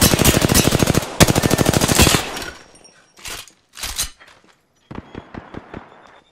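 Rapid automatic gunfire from an Apex Legends firefight on PC, a long loud burst broken by a short gap, then a few scattered single shots and short volleys trailing off quieter.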